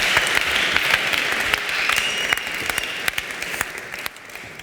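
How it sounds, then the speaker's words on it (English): An audience at a startup pitch competition applauding, loud sustained clapping from many hands with a few sharper nearby claps, tapering slightly toward the end. "Round of applause, please."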